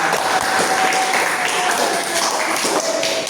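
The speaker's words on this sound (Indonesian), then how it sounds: "Kasih tepuk tangan" Students clap together in a classroom, a dense continuous patter of hands filling the whole stretch, with children's voices and a thin tone threading through it.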